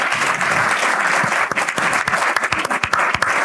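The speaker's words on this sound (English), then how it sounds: "let's give these guys another round of applause" Audience applause at a Northwest Arkansas affordable housing talk event, loud and sustained, with dense clapping that thins into scattered sharper claps toward the end.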